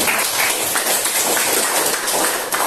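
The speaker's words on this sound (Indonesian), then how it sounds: "kita beri tepuk tangan untuk kelompok" Classroom applause for a student group, dense steady clapping from many hands filling the room, loud and continuous for a few seconds before tapering slightly.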